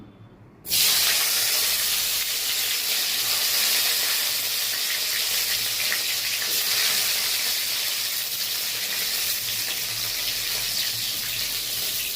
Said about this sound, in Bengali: একে একে সবজিগুলো সব ভেজে নিই।